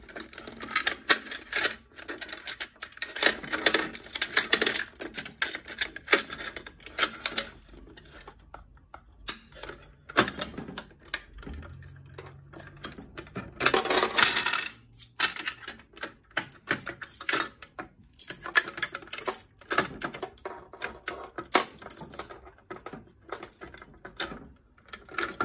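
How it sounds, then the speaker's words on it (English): A CAT45 key is inserted into a Potter PFC-4064 fire alarm control panel, producing scattered metallic clicks, jingles and rattles close by, with quiet pauses between bursts of handling. "now I'm just going to go ahead and take my Cat45 key, just going to insert it like this."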